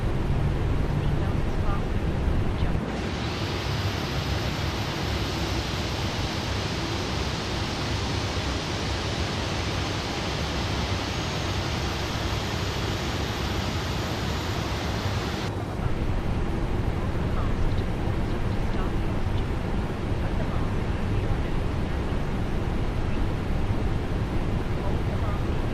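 Airbus A321 jet engines run in a flight simulator, producing a steady broad roar with a high whine layered over the middle stretch before it drops away, continuous and loud, no talking heard.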